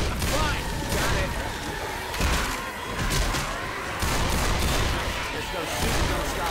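Sustained gunfire and booming shots in Left 4 Dead 2, including a modded Mare's Leg rifle, pound continuously amid chaotic combat noise, loud and dense with repeated heavy thumps.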